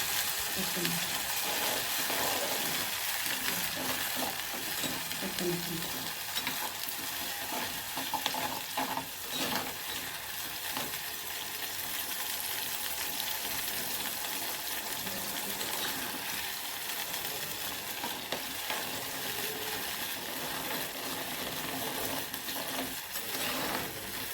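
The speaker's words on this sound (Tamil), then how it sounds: "இது நல்லா எண்ணெய் பிரிஞ்சு வர வரைக்கும் நல்லா வதங்கணும்." Ingredients for Tamil vathal kuzhambu sauté in oil in a pan, giving a steady bright sizzle throughout with scraping stirring strokes over it, close and continuous.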